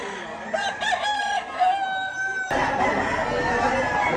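A gamecock crows loudly and close by in a drawn-out call, followed by more crowing and clucking from nearby fowl.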